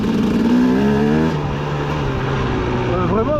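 A 2004 KTM 250 EXC dirt bike engine runs loud and close while being ridden, its pitch rising and falling as the throttle changes. A rider talks over it in French.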